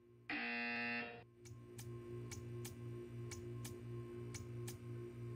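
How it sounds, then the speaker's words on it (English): A flat harmonic buzzer from the Portal 2 video game sounds loudly for about a second, followed by a quiet, regular ticking. "You will hear a buzzer. When you hear the buzzer, stare at the art."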